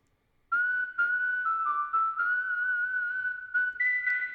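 A synthetic whistled melody made in Logic Pro X, electro swing style, holds long sustained notes with gentle vibrato, a few pitch changes and a brief rise near the end, loud and close.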